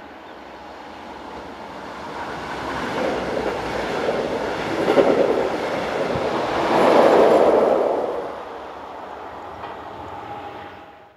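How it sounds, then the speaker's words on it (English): Northbound train with a Class 112 electric locomotive, 112-114, at the rear passes at a steady roar with a rushing wheel rumble that swells twice and then fades, heard from near the track without voices. "112-114 brings up the rear of this northbound train."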